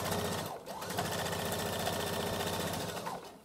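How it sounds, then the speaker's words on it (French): Sewing machine running steadily and close up while stitching a wide topstitch seam on a fabric pouch, a continuous rapid mechanical whir with even needle rhythm that slows briefly near the start and end. "Je plante mon aiguille, bien évidemment, toujours. Ok? Et je viens faire ma surpiqûre. Surpiqûre large"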